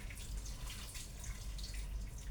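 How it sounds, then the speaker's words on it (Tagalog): Water poured from a tap into a cooking pot while preparing tulingan fish in coconut milk, a steady close splashing trickle lasting the whole moment with no talk. "Lagyan ko lang siya ng konting water."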